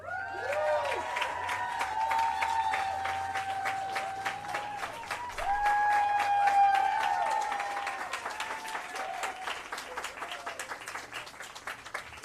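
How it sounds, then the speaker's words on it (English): Crowd applause at a Hollywood Walk of Fame star ceremony, a long, steady roar of clapping mixed with cheers and whistles that swells midway and thins toward the end, with no talk over it. "that deserves an enormous round of applause"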